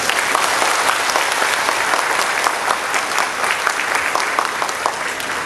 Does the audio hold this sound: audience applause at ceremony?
yes